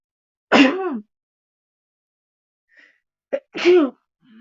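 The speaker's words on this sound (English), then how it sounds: "Sorry, I'm going to sneeze." Two sharp sneezes, close and loud, separated by a few seconds of silence with a quick sniff or breath just before the second.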